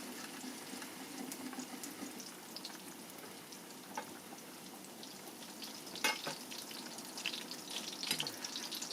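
Sardines fry in oil with garlic, giving a steady close sizzle and crackle with a few louder spits and stirring sounds near the end.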